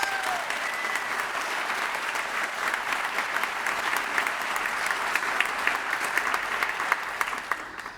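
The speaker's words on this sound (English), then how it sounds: "Please give them all a round of applause." Sustained audience applause from a live show crowd, dense steady clapping across the whole stretch with no talk over it.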